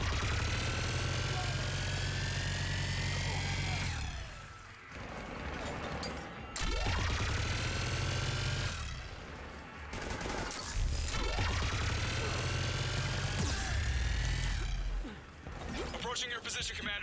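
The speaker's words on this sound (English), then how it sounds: "Just following the gunfire." Sustained gunfire rattles in the video game Mass Effect 3, dense bursts that drop away twice before resuming, heavy and continuous with mechanical rumble, while voices talk over it.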